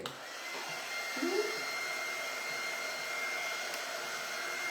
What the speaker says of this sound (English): Do you want the hair dryer?